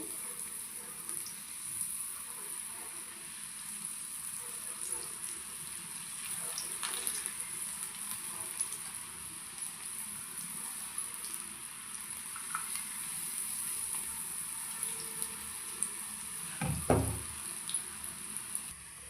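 Punugulu made from dosa batter frying in hot oil give off a steady, faint sizzling hiss that runs without a break, with one brief low thump near the end.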